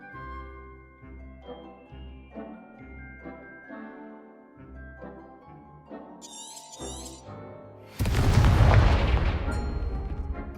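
A Confringo blasting spell goes off in Hogwarts Legacy as a sudden loud explosion with shattering debris, following a stretch of soft game music and chimes.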